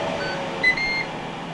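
A short electronic beep from a Ninja grill air fryer, a single high tone with a brief second tone following, over a steady background hum.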